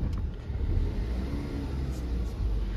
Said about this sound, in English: It revs out fine.